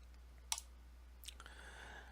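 A computer mouse gives a single sharp, faint click, followed by a quieter click and soft rustle, set against a steady low electrical hum with no talking.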